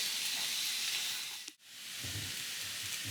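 A ground beef and potato casserole cooking in a pot gives off a steady sizzling hiss with soft bubbling pops, briefly cut to near silence midway before the sizzle resumes, close and moderately quiet.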